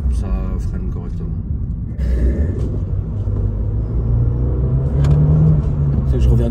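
Volkswagen Touareg driving on the road, a steady low engine and road rumble heard from inside the cabin, rising slightly toward the end, with faint talk and movement.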